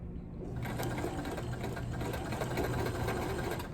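A domestic sewing machine runs steadily through fabric for several seconds, a continuous close whirring stitch rhythm at an even pace with no talk over it.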